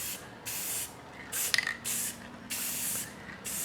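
Five short bursts of spray paint hiss from an aerosol can, each about half a second, with a brief clink in the middle; otherwise quiet.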